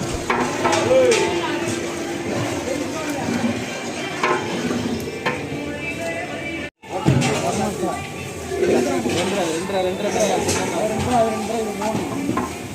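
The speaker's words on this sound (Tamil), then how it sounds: "முழுசாக இருக்கிற பச்சை மிளகா அதோட தக்காளி சேர்த்து நல்லா வதக்கணும்" Whole green chillies and tomatoes sauté in a pan for biryani, a steady sizzle with the scrape and clink of stirring heard up close beneath continuous talking.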